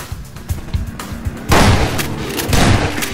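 Gunfire in the video game Half-Life 2: Episode One, a short run of sharp shots followed by a louder, sustained burst of booming fire.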